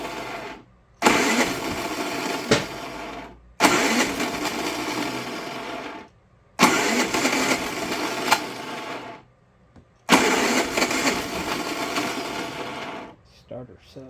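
Predator 3500-watt inverter generator engine pull-started on choke, four loud bursts of running lasting a couple of seconds each, cutting out between attempts.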